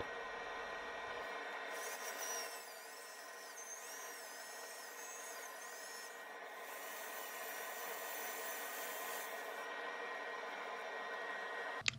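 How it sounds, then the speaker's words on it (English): Continuous whirring of a power sander on a boxelder wood and resin bowl, working from 120 down to 400 grit, a steady high buzzing hum with slight pitch wavering, no voices. "I'm just going to sand the piece now from 120 grit down to 400 grit"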